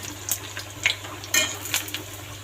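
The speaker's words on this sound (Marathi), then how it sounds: "छान तळून घेते." Kothimbir vadi, coriander fritters, frying in a pan, with a soft steady sizzle and a few sharp clinks and scrapes as the pieces are turned, close and fairly quiet.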